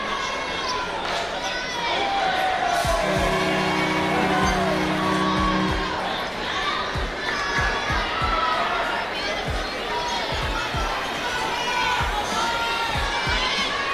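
A crowd yells and cheers through a ninja obstacle competition run, a continuous roar of shouts and whoops, while a ball bounces rhythmically nearby and a voice talks over the noise.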